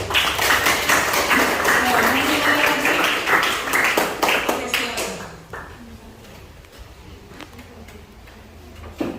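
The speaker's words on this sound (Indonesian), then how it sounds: "Tepuk tangan untuk Acong" Classmates applaud a student named Acong at a junior high seminary school orientation, with loud, dense clapping for about five seconds before it quickly thins out into scattered claps, while a voice speaks over it.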